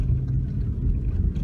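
Inside a small car on a road through Northumberland National Park near Wooler, the engine and tyres make a steady, close, low rumble with no voices.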